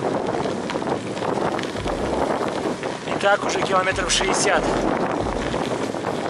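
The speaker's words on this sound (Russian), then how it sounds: "Ветер сегодня то в лицо, то в бок." Strong wind buffets the microphone during a long-distance bicycle trip along the Camino de Santiago in Europe, a rough roaring rumble with gusty swells, while someone talks over it throughout.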